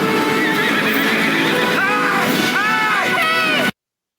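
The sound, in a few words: horse neighing and hooves clip-clopping in a film scene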